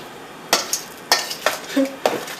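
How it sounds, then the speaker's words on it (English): A big spoon stirs a raw vegan chili with beans in a bowl, making a handful of close, wet scraping strokes in an uneven rhythm. "get a big spoon, stir it all together"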